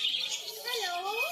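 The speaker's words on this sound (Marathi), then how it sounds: "बोलणारा पोपट आहे, हा बघा।" A talking parrot lets out sweeping, whistled squawks and calls, close and fairly loud and continuous over a short stretch, with no one talking over it.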